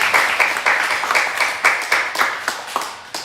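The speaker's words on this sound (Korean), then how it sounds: "우리 하나님께 감사의 박수 한번 드리겠습니다" Church congregation clapping in thanks during a Sunday worship service, a dense patter of many hands with a few sharper claps standing out, steady and fairly close for a few seconds.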